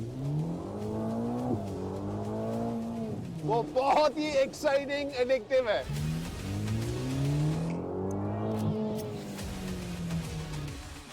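A Ferrari Portofino M revs while driving, its engine note rising and falling with a sharp burst of throttle blips in the middle. Someone talks over it throughout.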